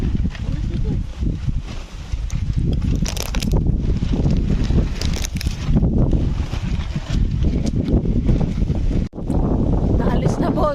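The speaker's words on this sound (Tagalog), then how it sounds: "Lakas ng hangin eh" Strong wind buffets the microphone at a family campsite, a loud, continuous rumbling roar with gusting swells and one brief dropout, while people talk over it.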